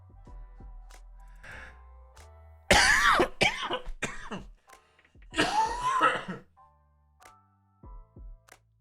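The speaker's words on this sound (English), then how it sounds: "Sorry, bit of a cough." A man on a chatty livestream breaks into a fit of coughing: several loud, harsh bursts in two main clusters with quieter throat-clearing between, close to the microphone.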